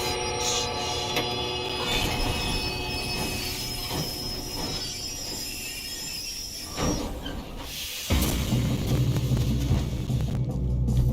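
A moving train in Red Dead Redemption 2 rumbles steadily throughout, with squealing wheels and hissing steam over a dense, continuous roar that surges louder near the end.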